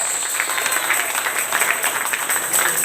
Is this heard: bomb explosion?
no